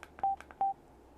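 Two short electronic beeps from a Cardo Packtalk Edge motorcycle intercom after its media button is tapped twice, clean and evenly spaced with quiet between them.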